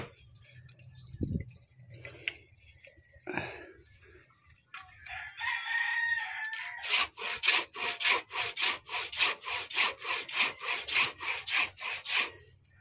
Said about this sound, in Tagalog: Subukan kung anuhan ng lagari guys.